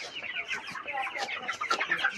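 Young 25-day-old chickens cluck and chirp busily together in a poultry farm shed at night, a dense overlapping chorus of many birds nearby.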